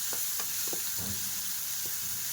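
Masala powder fries in a hot pan under a constant loud sizzle, while a spoon scrapes and stirs in several short, close strokes.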